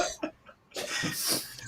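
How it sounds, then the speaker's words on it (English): A man's stress cough, a short burst of coughing and throat clearing heard close and fairly loud, with a brief pause before a longer rough cough. "It's a stress coughing."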